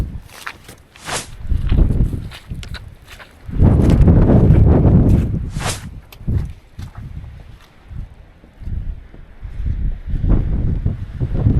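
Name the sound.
strong wind on fell in the Lake District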